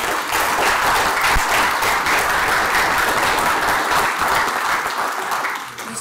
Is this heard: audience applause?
yes